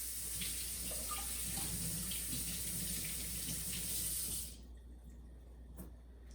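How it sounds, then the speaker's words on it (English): Onion from a farmer's market washed under a running kitchen tap: a steady, moderately quiet hiss of flowing water that stops after about four seconds, followed by faint splashes and handling. "I've got my beautiful onion from the farmer's market that is fresh. I think I'll just wash it."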